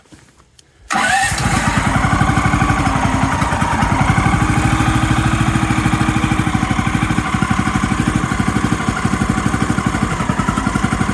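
A gas engine on a Woodland Mills 130MAX portable sawmill, started on choke, catches after a short pull and runs steadily. It gives a loud, close, rapid, even chugging that holds for about ten seconds.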